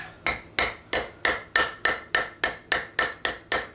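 Straight peen hammer strikes 5160 coil-spring steel, drawing over a knife edge on the anvil: eleven evenly spaced, ringing metallic blows about a third of a second apart, close and clear with no voices.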